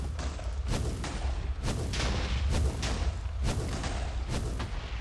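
Repeated gunfire in a Minecraft Clone Wars MCHeli mod battle: about six heavy booming shots at an uneven pace, each a loud broadband burst over a constant low rumble, with no talking.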